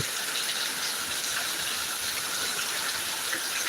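Torrential rain in Thiruvananthapuram makes an unbroken, hissing roar of falling water, uniform in loudness from start to end, near and dense, with no speech over it.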